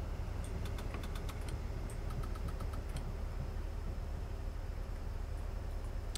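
A DMU diesel engine idles at around 600 RPM in Train Simulator 2019 on the East Coast Main Line, a steady low rumble and hum held faint and constant, with light clicking ticks early on.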